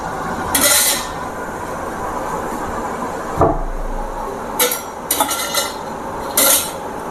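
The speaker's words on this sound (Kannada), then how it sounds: "ಒಂಥರ ಪಾತ್ರೆಗೆ ಹಾಕಿದ್ರೆ ಅದು ಒಂಥರ ಮೆಟಾಲಿಕ್ ಸೌಂಡ್ ಬರುತ್ತೆ." Crisp fried tengol snacks dropped into a metal vessel, giving several sharp metallic clinks and rattles in short separate bursts over a quiet background.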